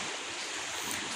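Small waves wash steadily at a sea shore where daklis net fishing takes place, a continuous even rush of surf with no voices.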